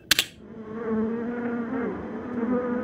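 Africanized honeybees buzz steadily in a close-up around gourd plants, a dense insect drone that swells and holds at moderate volume after a sharp brief knock at the start, with no voices.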